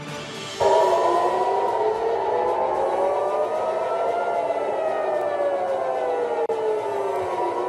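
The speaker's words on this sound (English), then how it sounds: "CNN's crew in Tel Aviv captured the moment that air raid sirens rang out over the city" Air raid sirens wail across Tel Aviv during an incoming ballistic missile attack, several overlapping rising and falling tones sounding loud and steady from start to finish with no talk.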